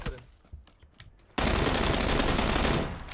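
Gunfire in PUBG (PlayerUnknown's Battlegrounds) bursts in suddenly after quiet, sparse sounds and a few faint voices, becoming a loud, dense stretch of rapid automatic shots that runs for nearly two seconds before easing off.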